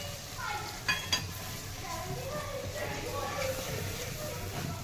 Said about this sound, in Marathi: बेसन छान भाजून घ्यायचं